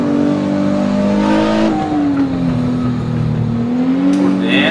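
Race car in a driving video game, a loud, steady engine drone whose pitch dips and climbs again as gears change, with tire noise near the end.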